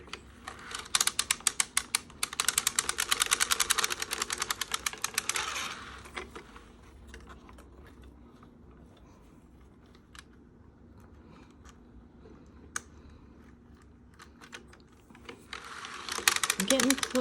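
Bear Valley circular sock machine cranked while knitting a wrap heel gives a fast, close clattering of needles and ratcheting mechanism in bursts at the start and end, with quieter ticking between.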